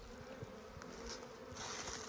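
Bees buzz in a steady, faint hum close by, with a soft insect drone and no voices.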